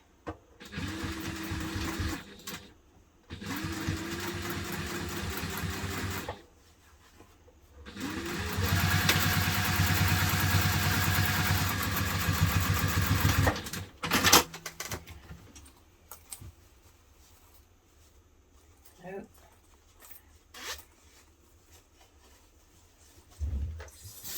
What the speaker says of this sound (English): Managed to sew my pocket shut.